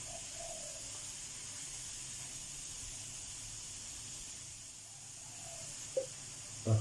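Chillies and garlic stir-fry in a hot pan for a spicy mushroom and holy basil dish. A faint, steady hiss runs throughout, with a couple of small clicks near the end.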